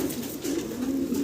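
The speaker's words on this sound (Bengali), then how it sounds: "6 ফেদার বয়সের ইয়াং কবুতর।" A young fancy pigeon, a six-feather-age Roman bird on a farm loft, coos in a low, rolling, repeated murmur close up, steady and fairly loud, with no talking.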